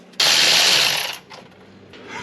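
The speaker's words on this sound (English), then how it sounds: "I got the itty bitty ratchet up there" A small ratchet wrench clicks rapidly for about a second, close by, while removing a starter bolt on a BMW X5 4.8i E70, then settles into quieter fiddling.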